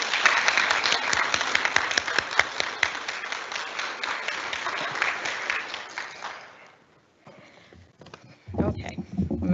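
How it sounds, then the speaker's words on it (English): Sustained audience applause at a 2021 nursing graduates' pinning ceremony, dense steady clapping for about seven seconds that fades out, followed by a brief lull and some louder handling noise. "I think they all deserve a round of applause for sure."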